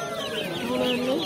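Chickens cluck and chirp at a poultry market, a busy layered chatter of fowl close by with a voice faintly underneath.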